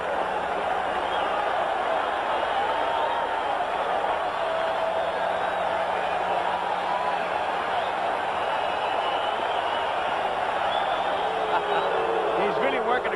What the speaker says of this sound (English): The crowd reacting to it.